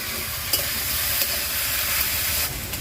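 Vegetables sizzling and hissing steadily in a pan with lightly fried onion, a constant close frying crackle with a few faint clinks of stirring.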